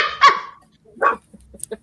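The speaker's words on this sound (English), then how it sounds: "The dogs are all barking in validation." Dogs bark in a few separate outbursts: a loud bark up front, another after a pause, then a few softer, scattered yips, near and without talk.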